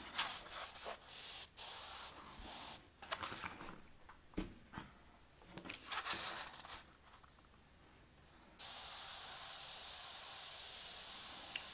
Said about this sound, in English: we have no problem at all to spray the color